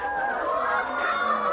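Layer hens on a Ghanaian chicken farm cluck in a steady, close murmur of overlapping calls, a brief continuous flock sound with no talking.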